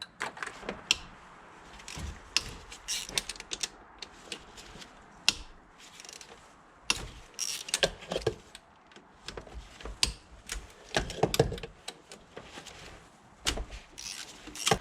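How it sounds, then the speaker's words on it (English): Throttle body bolts being undone on a 1996–2001 Toyota Camry V6 (1MZ-FE), with irregular close metallic clicks, ratcheting taps and clunks of tools working in the engine bay. "I'm going to unbolt the throttle body and then just gently put it down"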